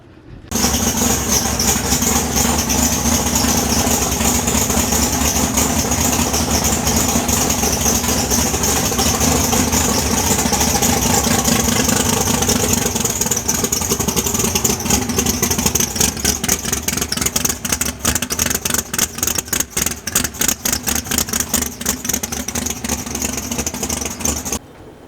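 The Og milk truck's engine idles steadily while the truck is backed out, a loud, close, continuous rumble. Toward the end it turns into a faster pulsing chug as the revs shift.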